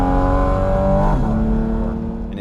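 Porsche 718 GT4 RS, a track-focused carbon Cayman, howls at high revs with a strong harmonic engine whine that shifts pitch midway, loud and close with no talk.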